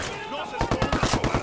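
Gunfire in the Ghost Recon Wildlands video game: a short rapid burst of automatic shots, about ten sharp reports in a second, layered over game background noise.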